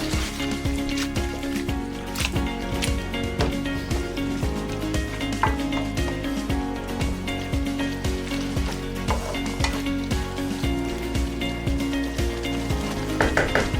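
Squid roast sizzles in a pan while a spatula repeatedly scrapes and stirs it, a rhythmic series of clinks and scrapes over steady frying hiss, close up.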